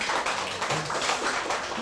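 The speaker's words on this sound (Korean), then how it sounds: "격려의 박수 한번 하겠습니다." A congregation claps in a church during a Sunday worship service, a dense, steady wash of applause from many hands lasting a couple of seconds with no voices over it.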